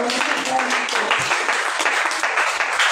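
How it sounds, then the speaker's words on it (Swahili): A church congregation at a revival mission claps for Jesus, dense crowd applause sustained throughout with a steady wash of overlapping hand claps and voices mixed in. "Pigie Yesu makofi."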